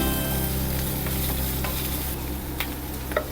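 Onions and green chillies fry in a hot pan for a Malayalam fish dish, a steady close sizzle with occasional stirring clicks and scrapes throughout, no voices.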